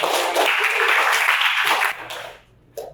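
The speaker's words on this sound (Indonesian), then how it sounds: "beri tepuk tangan anak-anak" Schoolchildren in a classroom clap together in a burst that fades out after about two seconds, and a brief sound follows near the end.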